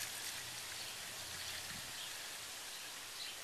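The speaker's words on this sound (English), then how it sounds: "pour the Wet and Forget in my measuring cup" Wet and Forget liquid pours into a measuring cup as a steady, soft splashing hiss that runs continuously and stays fairly quiet.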